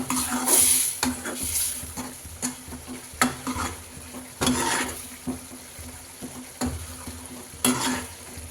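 Pea chaat mixture stirred and fried in a pan, with repeated loud spatula clanks and scrapes against metal over a steady sizzle, close up and free of speech.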